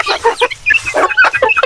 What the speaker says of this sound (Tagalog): agad nating pinakawalan una yung ating mga native na manok